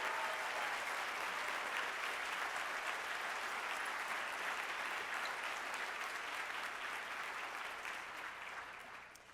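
A luncheon audience applauds steadily for about nine seconds, a dense and even sound that fades slightly at the end.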